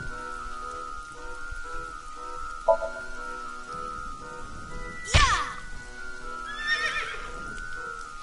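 A mechanical merry-go-round horse in a video game whinnies once as a sharp, brief burst. A second, softer cry follows over a steady hum and a light patter like rain.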